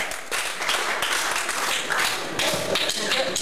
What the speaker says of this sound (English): Big applause for Balash, please!